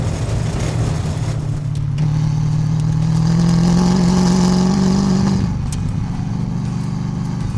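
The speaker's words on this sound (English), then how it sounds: "I haven't had the Mustang on a dirt road in years." A vintage Ford Mustang rolls along a dirt road, its engine giving a loud, steady drone that climbs in pitch as it revs and then drops back, heard close up without voices.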